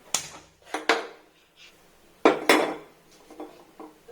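Fennel seeds roasting in a pan at home: a utensil strikes and scrapes the metal pan in a few sharp, irregular clanks and clatters, close and clear, with quiet pauses between.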